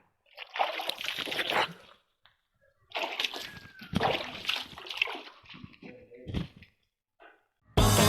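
Water splashing as someone bathes, heard as two long, loud stretches of splashing and sloshing separated by quiet, then a few smaller splashes and a final burst.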